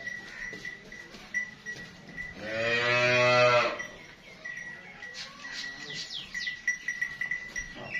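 A Friesian and Cholistani cross cow gives one loud, drawn-out moo lasting about a second, close by on a farm, with faint background noise around it.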